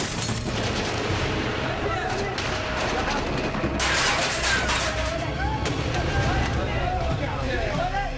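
Gunfire erupts during an insurgent ambush on Marines in Iraq, with loud, scattered shots and bursts cracking over a noisy, chaotic background with voices.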